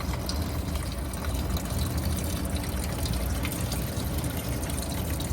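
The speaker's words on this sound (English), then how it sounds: "The fuel just keeps flowing." Fuel pours steadily out of a drained fuel line, a continuous loud splashing, gushing flow with no break, close by and without talk.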